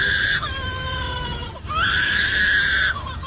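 A lyrebird, a skilled mimic, gives two long, strained, scream-like tones with a brief break between them. The sound is loud and close over a low background hum.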